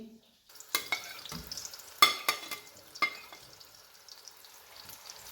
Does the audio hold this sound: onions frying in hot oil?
yes